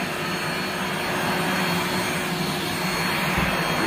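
A Rainbow SRX vacuum cleaner runs steadily with a loud, even roar and rushing hiss throughout, no one talking.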